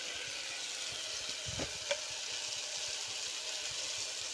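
Crushed garlic and chili powder sizzling softly in a pan, a quiet, even frying hiss with a couple of light scrapes as it is stirred.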